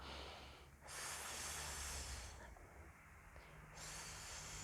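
Strong, drawn-out breathy exhales are heard during a core exercise workout, a near hissing rush of air that swells in two long waves with a brief softer dip between them.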